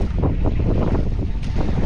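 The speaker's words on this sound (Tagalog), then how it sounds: "Lumalakas tayong hangin." Strong wind blows at sea, roaring continuously and buffeting the microphone with heavy low rumbling gusts, loud and close throughout.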